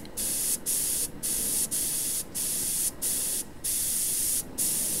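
An airbrush sprays paint in steady bursts of hiss, roughly eight close, even blasts separated by short gaps, with no voices.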